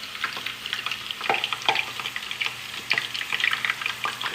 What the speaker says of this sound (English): And you're just gonna drop it off in here, and we're gonna just let it fry.